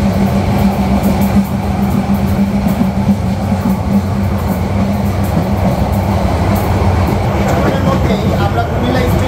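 The Suborno Express, a nonstop Chattogram to Dhaka train, runs near Comilla station with a constant loud rumbling roar and faint rhythmic clatter throughout.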